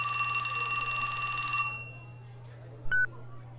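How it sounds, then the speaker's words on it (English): A phone rings in the visual novel Shibuya Scramble with a steady electronic trill that cuts off abruptly partway through, followed by a short bright beep over a low constant hum. "His phone rang."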